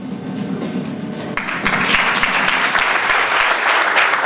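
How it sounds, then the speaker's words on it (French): Trainees of a Brasserie du Cameroun football school in Cameroon applaud a visiting football legend, steady dense clapping that grows louder and fuller partway through, with a few sharp thumps standing out near the end. "Applaudissements pour la légende Rigobert Song avec nous."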